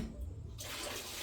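Water runs into a pressure canner being filled for home canning, starting as a low splash and shifting to a bright, steady rushing stream, faint and close.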